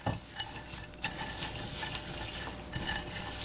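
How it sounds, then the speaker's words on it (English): Sweet potato pecan pie filling is mixed together in a bowl, with soft, repeated stirring and scraping strokes and faint clinks over a quiet background hiss. "so we're going to mix all of this up together"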